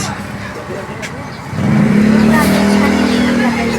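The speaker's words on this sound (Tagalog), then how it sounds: "ayan guys nakapara na tayo ng bus so sasakay tayo ng bus" A bus pulls up nearby and its engine settles into a loud, steady idle rumble with a low drone, rising in level partway through, amid street background and voices.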